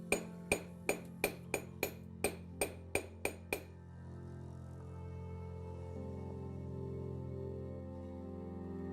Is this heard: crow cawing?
no